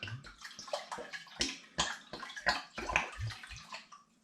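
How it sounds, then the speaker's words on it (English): Rose water pouring into spring water in a jug, a close, intermittent splashing and trickling liquid sound in short bursts, with no talking. "And into the spring water, I'm going to add the rose water"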